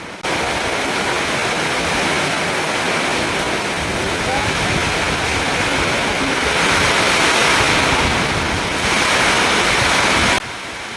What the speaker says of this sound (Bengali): যেমন জোরে বৃষ্টি হচ্ছে তেমনি ঝোড়ো হাওয়া বইছে